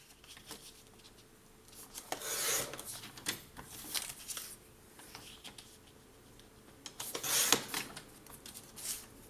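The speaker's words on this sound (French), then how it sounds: "Je vais couper les excédents." Scissors trimming excess paper for a scrapbook album, a few crisp snipping and rustling bursts at irregular intervals, close and quiet with no talking.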